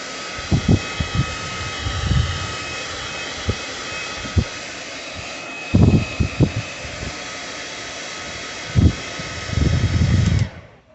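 An airbrush blows hot air to dry paint on a fishing lure: a steady hissing, whooshing airflow with several short thumps and handling bumps, close and fairly loud, no voices.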